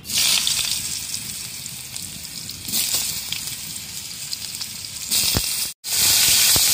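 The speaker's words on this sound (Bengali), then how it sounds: "আলুগুলো কিছু সময় ভেজে নেব।" Cut potatoes hiss loudly in hot mustard oil in a kadai, a dense steady sizzle with a few surges and one brief break near the end.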